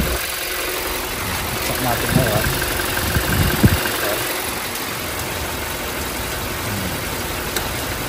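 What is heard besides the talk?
Toyota Fortuner engine idling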